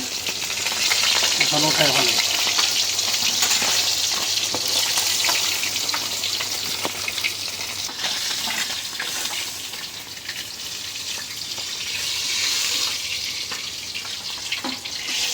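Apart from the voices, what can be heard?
fish frying in oil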